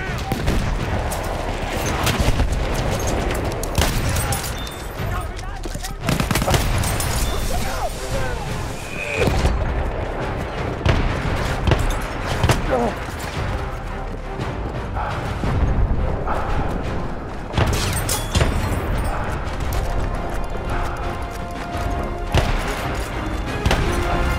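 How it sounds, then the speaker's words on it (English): Battlefield 1 combat: a grenade blast and bursts of rapid gunfire, repeated thuds and crackling shots across the whole stretch, with game voices calling out over the noise. "Throwing a grenade!"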